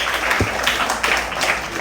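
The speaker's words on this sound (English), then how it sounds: "All right, give him a clap." A lecture audience gives a short round of applause, steady dense clapping for under two seconds filling the room.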